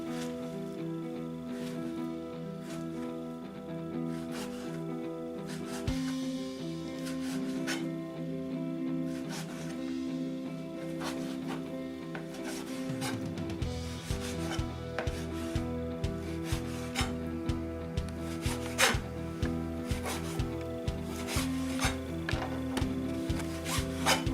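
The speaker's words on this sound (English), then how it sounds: "we need to cut our bacon into beautiful lardons" Knife slicing bacon into lardons on a board, a steady rubbing, rasping cut that turns into a quick regular run of chopping taps near the end, close and alone without talk.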